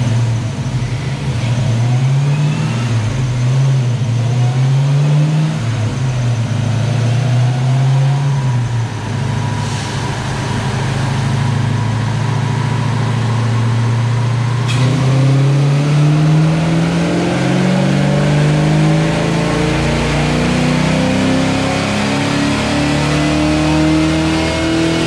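A Ford 5.0 V8 fitted with a GT40 intake, rockers and valve springs, run naturally aspirated on a dyno, revs loudly and steadily, its pitch rising in repeated sweeps and climbing to a sustained high-rpm pull near the end.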